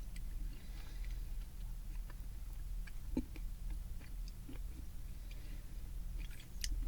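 Someone chews a sticky strawberry candy with a saltwater-taffy-like texture, making soft, close, irregular wet smacks and squishes over quiet background hiss, with no talking.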